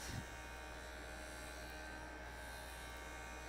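A Jooltool lapidary machine grinds a chipped moonstone, giving a steady, even electric buzz with a quiet hum beneath it. It runs alone for the whole stretch after a brief, slightly louder start.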